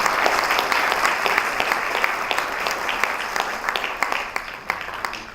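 Awards night audience applauding steadily, a dense wash of many hands clapping close and loud throughout, with a few sharper individual claps standing out toward the end.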